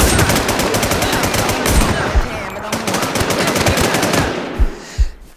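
Video game gunfire rattles in fast automatic bursts almost continuously, then breaks into a few louder separate shots near the end, loud and close.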